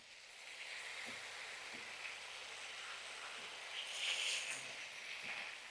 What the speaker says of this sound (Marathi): व्यवस्थित आपल्याला हे परतवून घ्यायचंय आणि गॅस आपल्याला आता मीडियम करायचा आहे